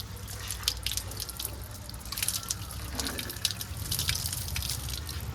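Water runs from a tap on a school water tank, splashing and dripping continuously with a steady wet patter and a low background rumble, moderately quiet and without speech.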